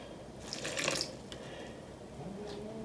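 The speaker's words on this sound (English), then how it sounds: "And I'm going to add 1 cup of warm water." Warm water poured from a cup into a mixing bowl for homemade French bread dough, a soft close splashing gush building then easing over a few seconds, fairly quiet with no talking.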